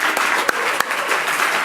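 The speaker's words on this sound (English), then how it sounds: "Big round of applause to our beautiful judges here" At a technology conference, the audience gives steady applause with a couple of sharp, close claps standing out, moderately loud and without talking over it.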